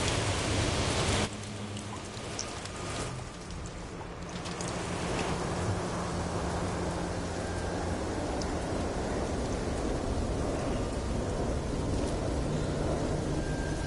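Thunderstorm rain in the video game No Man's Sky, a steady, dense hiss of downpour that runs unbroken from start to finish, with a brief louder patch at the very beginning.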